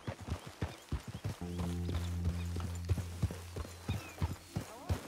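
Horse hooves clip-clop at a steady walking pace in Red Dead Redemption 2, close and distinct, with a low held drone joining partway through and no talking.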